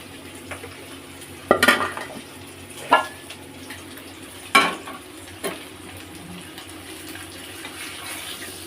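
Roe-filled hilsa fish pieces fry in a pan under a low steady sizzle, broken by a few sharp clanks and scrapes as the pieces are turned or lifted.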